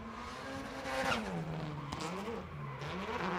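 A drift car at a Formula Drift night event in Las Vegas slides with tires squealing over a wavering engine roar, loud and continuous throughout.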